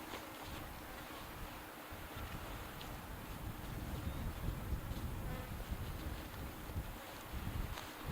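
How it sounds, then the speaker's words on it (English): Honey bee buzzing close around a beekeeper's veil beside horizontal hives, a steady droning hum that swells and fades as the insect circles near the microphone, with light wind noise throughout. "that bee that followed me over here would like to get in my veil"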